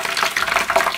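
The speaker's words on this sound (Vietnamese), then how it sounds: "Rồi sau khi dầu sôi rồi mình sẽ chiên nha, chiên gà." Chicken pieces frying in a large pan of hot oil, cooked for Vietnamese crispy chicken rice, give a dense, steady crackle and sizzle heard close up with no talk.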